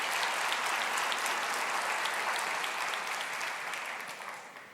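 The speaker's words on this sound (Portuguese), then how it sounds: "Pode aplaudir." A church congregation applauds during a sermon, with steady, full clapping that gradually tapers off toward the end.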